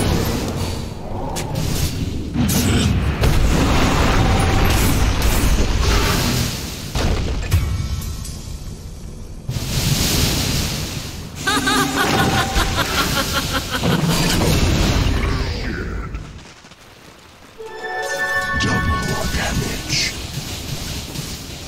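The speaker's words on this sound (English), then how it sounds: "Radiant's bottom tower is under attack." Dota 2 combat while Radiant's bottom tower is under attack: loud, repeated booms and crashing impacts in heavy bursts, with a brief lull near the end before the blasts pick up again.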